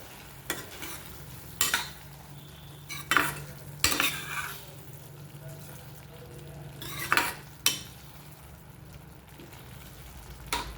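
Roasted peanut powder is stirred into tomato bharit in a pan on the gas, with repeated scraping strokes of a spoon over a low, steady sizzle, several distinct stirs spread across the stretch.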